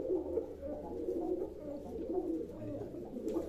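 Pigeons cooing steadily inside a loft, a continuous soft low murmur of overlapping coos close by with no talk over it.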